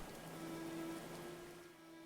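Rain in the medieval colony-building game Going Medieval, a steady soft hiss of falling rain with a faint low hum underneath, continuous and fairly quiet.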